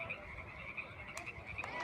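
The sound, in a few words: frogs croaking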